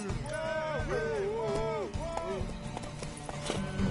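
A horse galloping in The Witcher 3 video game, rhythmic hoofbeats running under a melodic music score and a voice calling out, with the hooves growing more prominent toward the end.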